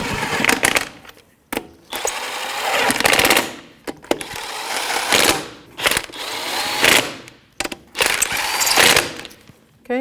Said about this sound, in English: That's a 19mm socket. We're just going to snug it up before we torque it and do it in a star pattern.